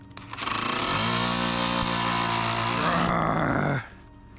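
A power driver whines steadily as it sinks big screws into the wall backing supports of an RV being converted to a cargo trailer. One sustained, close motor run lasts a few seconds, then cuts off.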